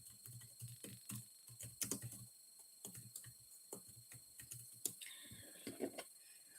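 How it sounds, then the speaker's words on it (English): Light, irregular keystrokes on a computer keyboard indoors, quiet and close, in short bursts with brief pauses and a few sharper clicks. "Oh God, this keyboard is going to drive me up the wall."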